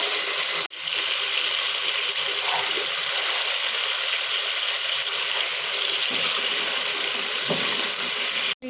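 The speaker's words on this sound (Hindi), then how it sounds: "अब मैं चावल शामिल करूँगी इसमें।" Rice tipped into a pan of fried meat masala while cooking biryani, a sudden clatter followed by a steady loud sizzling hiss that ends with another brief knock.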